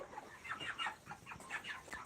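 Faint, rapid clucking from several 49-day-old broiler chickens, a series of short calls in quick succession with no talking.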